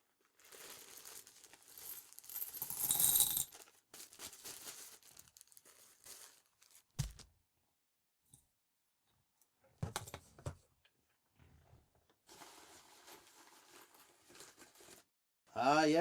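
Coins tumble out of a plastic bag amid crinkling plastic, with bursts of rustling and clinking separated by quiet gaps and a loud burst at the end.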